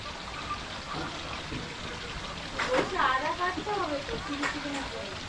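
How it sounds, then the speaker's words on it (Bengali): Marinated chilli chicken pakoras sizzle in hot oil with a steady, faint crackle, while someone talks over the frying. "চিলি চিকেনের পকোড়া ভাজা হচ্ছে এখন এই দেখো ম্যারিনেট করা এখানে ওম এখানে ভাজছে"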